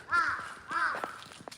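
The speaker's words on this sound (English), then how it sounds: "There's a crow right there." A crow caws at a Japanese shrine, two drawn-out harsh calls followed by a few shorter clipped notes, fairly near and clear over a quiet background.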